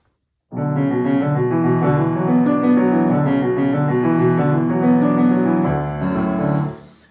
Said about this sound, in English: these same low instruments take over this ostinato